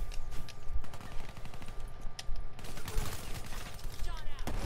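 Video game gunfire in rapid bursts and scattered shots, loud and dense throughout, with a player talking over it.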